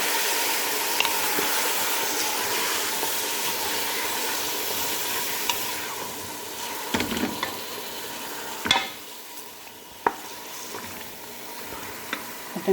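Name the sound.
mutton frying in a pan with garlic ginger paste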